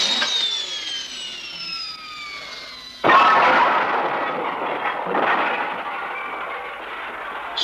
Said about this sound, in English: The explosion of a firecracker